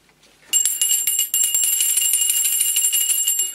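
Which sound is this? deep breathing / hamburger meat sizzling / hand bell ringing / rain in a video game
hand bell ringing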